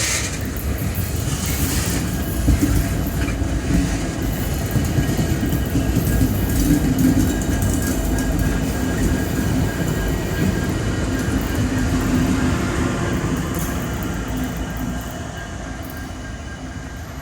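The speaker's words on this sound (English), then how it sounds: "RJ Corman has their engines on the end of the train." A loaded coal train passes close by, with new SD70 locomotives pushing on the rear. It makes a steady loud rumble and rolling roar throughout, with faint wheel clatter over the rails and no talking.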